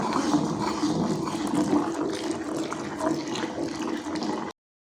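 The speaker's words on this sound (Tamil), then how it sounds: "இப்போ இதில் ஊற்ற போகிறோம்" Dissolved ragi flour mixture being poured into a pot for ragi kali, a steady continuous watery pour heard up close and alone for about four and a half seconds.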